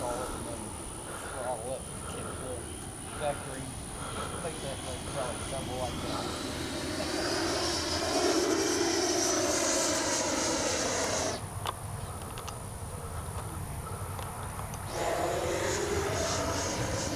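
An FMS Avanti S 90mm RC jet with thrust vectoring flies past, its ducted-fan whine steady and then swelling louder as it nears, with a strong tonal hum throughout and people talking over it.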